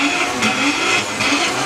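A 9-second Volkswagen Jetta drag car at a doorslammer drag racing event roars at full throttle, a loud, steady, rasping engine note heard at a distance, without voices over it.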